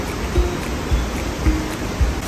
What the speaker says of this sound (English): This is the river that the waterfall feeds.